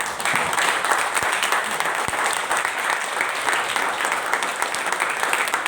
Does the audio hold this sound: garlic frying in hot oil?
no